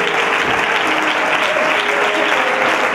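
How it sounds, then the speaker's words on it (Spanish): A church congregation applauds loudly and steadily during a sermon, a dense unbroken wash of clapping that holds at full strength throughout. "Por favor, aplauden fuerte que Dios sabe."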